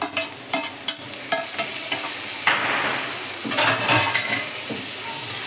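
Onion with red and yellow bell peppers stir-fries in a pan for a Korean chicken dish: a steady sizzle broken by repeated clinks and scrapes of a spatula stirring the vegetables.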